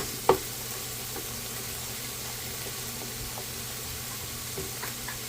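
Minced meat with tomato paste and ketchup cooking in a pan, giving a steady low sizzle with one sharp clink near the start and faint stirring touches afterward.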